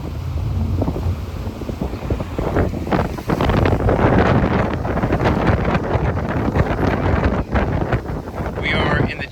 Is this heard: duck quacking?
no